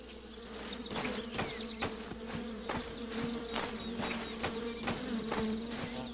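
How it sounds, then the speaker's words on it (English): Bees buzz nearby in a game about a blind princess, a continuous droning hum dotted with regular soft ticks and occasional higher chirps. "I hear the bees"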